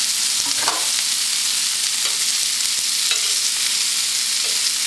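Shake Shack style burger patties frying on a griddle, a steady close hiss and sizzle with occasional scrapes and light spatula taps over the constant crackle.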